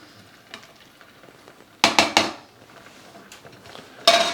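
A spoon stirs yellow split pea soup in a saucepan, scraping the bottom. Quiet background is broken by a few sharp clinks and scrapes, one cluster near the middle and another at the end.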